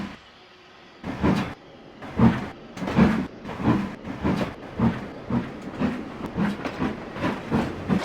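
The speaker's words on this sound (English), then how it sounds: "Just then, the guard blew his whistle and Mitch departed once more." A steam engine train pulls away with a rhythmic series of chuffs or wheel beats, starting after a quiet moment and continuing at a steady, even pace near and moderately loud, with no voices.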